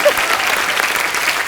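Studio audience at the Kapil Sharma comedy show bursts into a short, steady round of applause, close and fairly loud, lasting about a second and a half with no talk over it.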